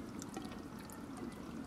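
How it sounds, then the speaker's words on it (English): Water runs steadily out of a caravan's overflow pipe, a faint, continuous trickling pour with no break across the short stretch. "the first sign we should see when it gets to the top is water coming out of that overflow pipe"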